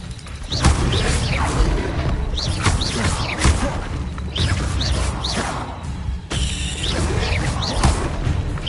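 Spell blasts from Confringo in a Harry Potter video game: a dense run of loud booms, crashes and whooshing impacts going on without pause, with game effects layered over a low rumble.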